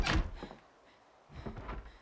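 Heavy thuds of zombies battering a door in the game Project Zomboid, two clusters of dull banging, a loud hit then a rattling second burst, near and with no one talking.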